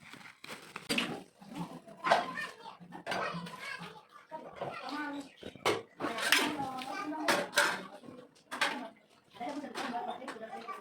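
Dishes being washed at a kitchen counter: running water and the clink of pots and plates sit under steady conversational talk for the whole stretch.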